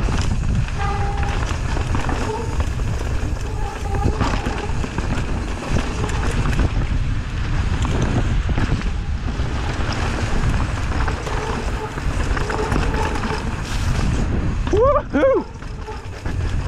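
Steady wind buffeting a microphone outdoors on a wet downhill mountain bike trail, a constant loud rumble throughout with some muffled voices underneath.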